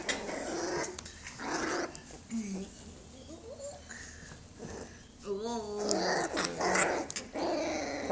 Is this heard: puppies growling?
yes